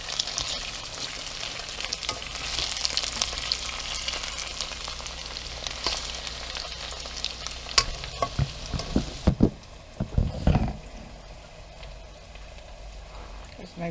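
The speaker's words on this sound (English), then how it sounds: "These are kind of frying here with the onions." Potatoes frying with onions in a pan, a steady close sizzle with stirring, then a few louder scraping clatters near the end as the sizzle drops.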